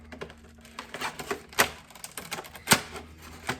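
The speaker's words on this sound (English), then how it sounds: "it'll cut plastic, so a knife will open up a knife" A cheap Ozark Trail folding knife cuts into stiff plastic packaging, giving a run of sharp, close crackling snaps and clicks at an irregular pace.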